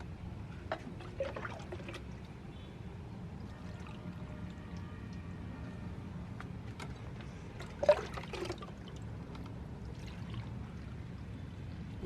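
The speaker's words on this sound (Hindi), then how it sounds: "1 लीटर के आसपास पानी डालना पड़ेगा इसमें।" About a liter of water pours from a broken mixer jar into a seed tray for germinating carrot and other vegetable seeds, a faint, soft trickle running continuously with a few small splashes and clinks, no talk.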